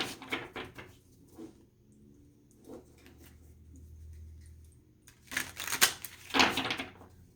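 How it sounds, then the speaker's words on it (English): Tarot cards are shuffled by hand close up: soft riffling and rustling patter in short bursts, quiet at first and then louder, with brief pauses between shuffles and no talk. "Get a good shuffle on these."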